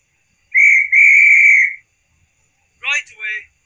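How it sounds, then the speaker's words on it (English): A guard's whistle from a Bachmann J71 model railway locomotive fitted with DCC sound gives two long shrill blasts with a brief gap, and a short burst of a reply follows after a pause. "And we have guard's whistle."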